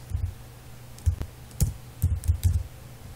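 Code is typed on a computer keyboard while writing a servlet anchor tag, a few soft, muffled keystrokes in small irregular bursts, close by and fairly quiet.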